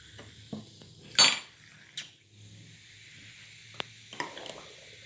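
A spoon stirs a baking soda mixture for a homemade mini volcano, giving scattered clinks and scrapes against the container with quiet gaps between and one louder clatter early on.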